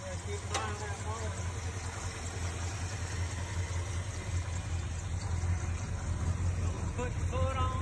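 A 1969 Ford F250 engine with a bad fuel pump idles steadily during a carburetor adjustment, a constant low rumble throughout with faint background noise.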